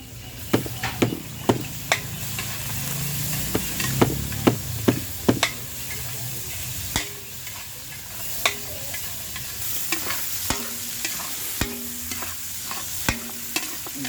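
Meat sautéed with garlic in a pan for a barangay fiesta: a steady sizzle runs throughout, punctuated by repeated sharp clanks and scrapes of a spatula stirring against the pan, close and clear.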